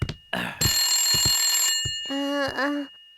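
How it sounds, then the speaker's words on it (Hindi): A cartoon telephone ringing in a home, a bright sustained electronic trill that starts after a couple of clicks and holds for about a second, followed by a shorter warbling ring, with brief voice sounds around it. "ये जरूर नकानुस्तान का फोन होगा"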